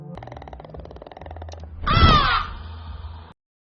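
A crow caws once, loud and close, rising out of a murky rumbling dramatic score before everything cuts to silence.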